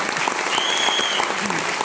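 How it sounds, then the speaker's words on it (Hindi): Loud, lively audience applause at a youth empowerment talk, continuous dense clapping that fills the room with a faint whistle-like tone above it. "बार जोरदार ताली हो जाए।"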